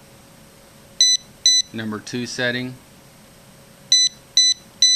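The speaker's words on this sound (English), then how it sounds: "So we're going to get 4 beeps here." A pinpointer metal detector gives short electronic beeps while its settings are changed: two sharp beeps, then someone speaking, then three more evenly spaced beeps, close and clear.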